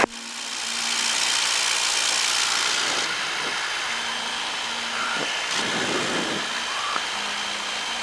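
A light aircraft's piston engine drones steadily and fairly close during a magneto run-up check on the ground before departure, a continuous hum with faint tonal shifts and no talk over it.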